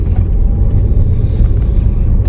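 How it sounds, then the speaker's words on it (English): A tractor driving down the middle of a road, a steady, loud low-pitched engine rumble with some wind buffeting, continuous throughout with no talk. "a tractor driving down the middle of the road"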